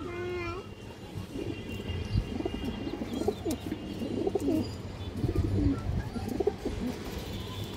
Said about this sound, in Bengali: এই দেখেন একবারে একের একটা কবুতর মাশাআল্লাহ, টপ ক্লাস কবুতর।